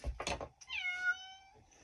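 A cat gives one clear, drawn-out meow close by in a quiet room, preceded by a couple of soft knocking thumps.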